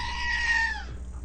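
A screaming goat novelty toy lets out a single loud, drawn-out electronic goat scream lasting about a second, then cuts off abruptly, heard close and alone.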